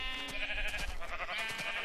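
Minecraft sheep bleating in the game, a few wavering, nasal bleats close up and continuous across the short stretch, with no talking over them.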